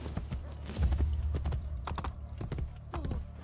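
Rhythmic hoofbeats of a galloping horse in Assassin's Creed: Brotherhood, quick clopping thuds repeating steadily, close and fairly loud.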